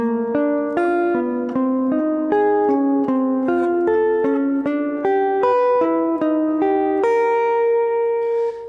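Triad exercise played in even, steady chords with chromatic leading tones sliding into each triad, about fifteen evenly spaced chord attacks with a final sustained chord, clear and alone.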